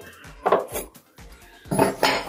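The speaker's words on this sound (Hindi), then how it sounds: "सबसे पहले ये जो भी स्टैंड होते हैं हमें निकाल लेने होते हैं" Metal pan stands lifted off a glass-top gas stove clatter and clank in two clusters of sharp knocks, close and fairly loud, with quieter scrapes between them.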